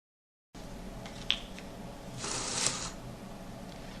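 An OMR scanner pulls an answer sheet through its feed, a soft brief whirring riffle after a faint click, quiet and close in an otherwise still room.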